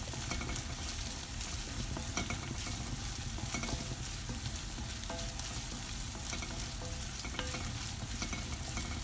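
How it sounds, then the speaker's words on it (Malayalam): Sliced onions sauté in a hot pan for an egg Mughlai street-food dish, a loud continuous sizzle with occasional stirring scrapes, no voices. "ഇത് നന്നായിട്ടൊന്ന് വഴറ്റണം. സോ സവാള ഒരുവിധം ഒന്ന് വഴണ്ടിട്ടുണ്ട്."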